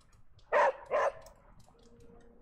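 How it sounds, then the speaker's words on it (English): A dog in the video game Midnight Suns gives two quick, loud barks in close succession, followed by a quiet stretch with a faint, steady tone. "There's a doggy to say good morning to."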